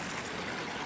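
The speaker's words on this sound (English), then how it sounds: "Oh, there's a waterfall like coming down up there." Glacial creek water pouring down a waterfall near a Montana river crossing, a steady broadband rush of falling water with no break, close and fairly loud throughout.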